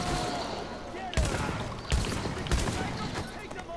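Shotgun fire in The Division, three heavy blasts spaced about a second apart over a constant background of game noise, with speech present in the mix.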